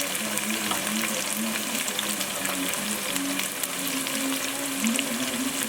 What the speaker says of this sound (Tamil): இந்த டைமில் வந்து நம்ம முட்டையை உடைச்சி ஊற்றிக்கலாம்.